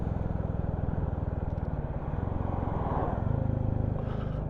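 Engine drone of a motorcycle or two on a road in February, a steady low rumble that swells slightly toward the end as a bike passes fairly close, with no talk over it.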